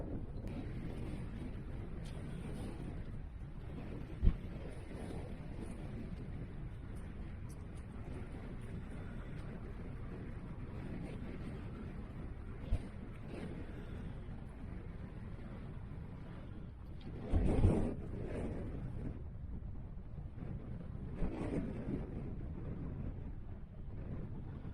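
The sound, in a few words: cold wind at stone circles in Cornwall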